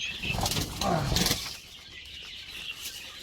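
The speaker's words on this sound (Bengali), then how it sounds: "পাখিরা অনেক বেশি উড়াউড়ি করতেছে" Quail flap and fly around a litter-floored shed in a dense, close burst of wingbeats. The beating then fades to softer rustling and a faint steady background hiss.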